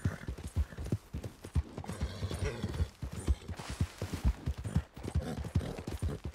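Hooves clatter in a fast galloping rhythm as a horse runs in the Western video game Red Dead Online, close and loud, with brief snorts and a whinny mixed in.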